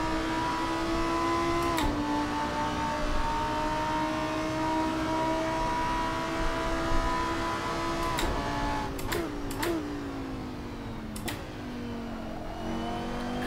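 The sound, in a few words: race car engine revving in a racing video game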